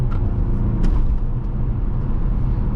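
A 2022 Mazda CX-5 2.5 Turbo accelerates to pass, a brief deep engine rumble and road noise heard from inside the cabin with a small thump partway through.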